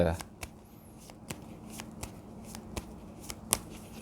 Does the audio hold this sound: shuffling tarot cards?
yes